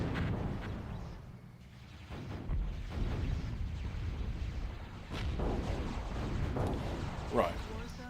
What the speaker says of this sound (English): they're just going to carry on using artillery